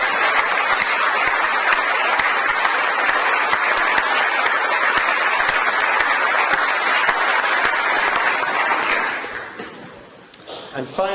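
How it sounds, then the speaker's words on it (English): Sustained audience applause at an awards ceremony for a graduating group, dense and loud for about nine seconds before tapering off at the end. "if you could take the applause, please, for your group as well"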